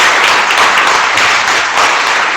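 A church congregation bursts into loud, dense applause for Jesus, a sustained roar of many hands clapping together close by, with no pauses.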